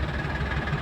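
A parked cement mixer truck idles near road construction, giving a brief steady low engine rumble, close and unbroken.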